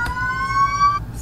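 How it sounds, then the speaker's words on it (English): A siren wails steadily with bright harmonic tones over low traffic rumble, then cuts off abruptly near the end. "Apologies for the sirens."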